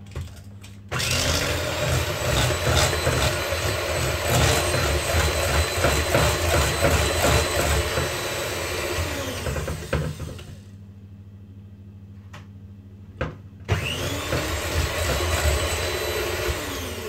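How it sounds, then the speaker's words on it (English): An electric mixer whirs loudly through apple cake batter with a rattling, churning drone, stopping for a few seconds with faint clicks before starting up again, no talking. "Alright, you have the mixer."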